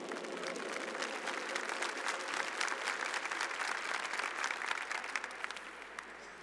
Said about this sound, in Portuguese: Vamos aplaudir o nosso Rei.